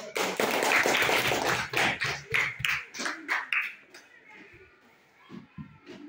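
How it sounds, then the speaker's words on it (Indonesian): Students in a classroom clap their hands in a quick, patterned rhythm of bursts, with children's voices mixed in and a few softer taps at the end. "Kasih tepuk tangan."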